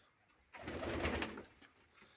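Pigeons purr and coo close by, a single soft burst of about one second rising out of near silence and then fading.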